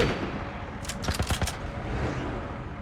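A quick burst of about four gunshots rings out in The Last of Us video game, sharp and closely spaced over a low rumbling background, moderately loud.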